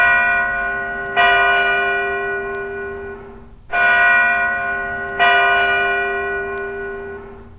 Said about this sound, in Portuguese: E o som do sino?